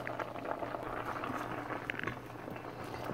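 Peas bubble in a pot of water on the stove for Jamaican rice and peas, a steady, faint simmering patter with a low hum beneath and no talking.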